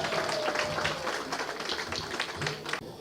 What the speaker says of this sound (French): Est-ce qu'on peut applaudir pour la voix des anges?